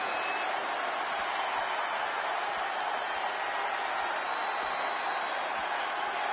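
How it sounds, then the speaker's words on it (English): A wrestling crowd in a video game roars without a break, a dense, loud wash of cheering and applause that fills the whole span. "The sound of this crowd is deafening"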